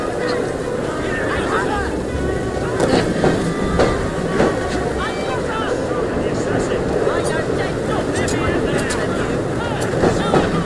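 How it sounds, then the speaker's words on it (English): Train rolling along in the video game Assassin's Creed Syndicate, a continuous rumbling clatter with rhythmic rail clicks and mechanical noise, loud and sustained, with a voice speaking over it. "Off this bridge and access the train."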